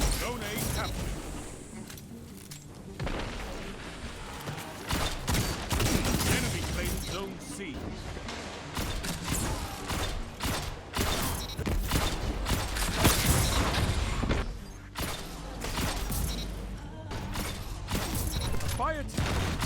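Bursts of Sturm exotic hand cannon gunfire crack repeatedly in a Destiny 2 PvP match, mixed with game effects and clanks, loud and busy throughout.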